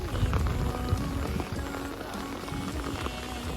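Steady rainfall in the hills of Hongsa, Xaignabouli, Laos, patters on surfaces, a dense continuous hiss with scattered drops, moderately loud and without voices.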